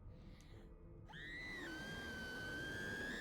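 A woman lets out a long, sustained high scream in What Remains of Edith Finch, rising sharply after a quieter murky stretch and holding steady until the end.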